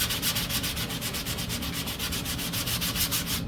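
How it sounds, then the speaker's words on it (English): Sandpaper rubs paint off a model airplane, likely a P-51 Strega conversion, with steady rapid back-and-forth strokes close to the microphone. The scratchy rhythm keeps going for a few seconds, then stops abruptly. "let's check real quick how easy that's going to sand off"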